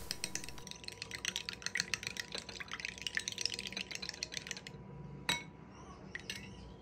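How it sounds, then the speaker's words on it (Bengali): Eggs with salt beaten in a bowl, rapid close clinking strokes of utensil against the bowl for several seconds, then slowing to a few scattered taps and one sharper knock. "এখন এই ডিমের মধ্যে সামান্য লবণ দিয়ে ভালোভাবে ফেটিয়ে নিচ্ছি।"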